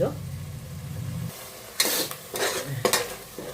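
Chilli paste and chicken frying in a pan for red chilli chicken biryani: a voice talks at first, then short bursts of sizzling and stirring clatter arrive in uneven pulses.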